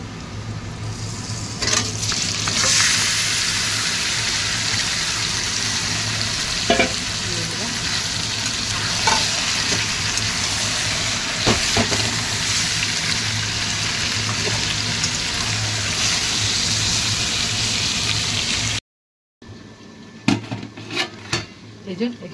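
Marinated chicken sizzling in oil with onions fried deep red, a steady loud crackle with occasional clinks of a stirring spoon against the pot, ending in a brief silence and a few knocks.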